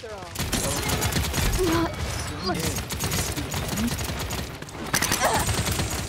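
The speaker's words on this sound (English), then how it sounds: "Enemies are firing on me." Enemies firing guns in the Paladins video game: rapid, loud volleys of gunfire stacked with other combat effects across the whole stretch, while a character voice speaks briefly.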